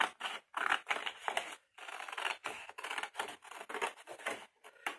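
Scissors cutting through material for a lid on a homemade awalé board, a close run of crisp, rhythmic snips with short pauses between strokes.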